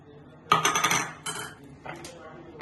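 A metal spoon clatters in a dish as green chili paste is added while making chicken balls, a loud close scrape and clink followed by two lighter taps, with faint speech around them.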